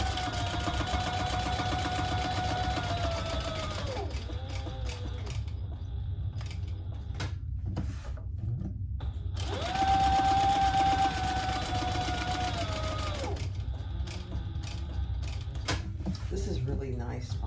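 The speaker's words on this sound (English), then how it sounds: "now we're going to top stitch around the sides and the bottom" A sewing machine top stitches around the sides and bottom of a fabric crossbody sling bag, running in two sustained whirring bursts with a pause between, close and fairly loud.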